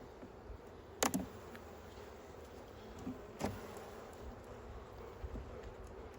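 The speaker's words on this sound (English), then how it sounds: "You can see I got a lot of bees." A steady, low buzzing of many bees in a hive drones on continuously during a hive inspection, with a couple of brief knocks or taps standing out.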